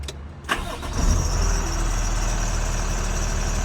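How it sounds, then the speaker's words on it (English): A truck engine cranks and catches after about half a second, then settles into a loud, steady idle close by with no talking. "Want to turn the truck on."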